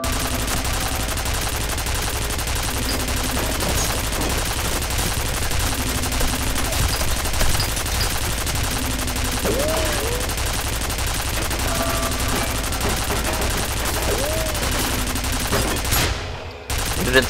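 Dense, continuous gunfire fills a firefight in the video game F.E.A.R., a loud, steady barrage of rapid shots and impacts with no pauses, ending abruptly near the close.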